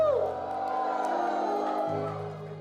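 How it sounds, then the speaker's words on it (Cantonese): Wedding guests cheer and scream loudly together at the MC's cue, a sustained burst of whoops and shouts from the crowd. "歡呼尖叫！"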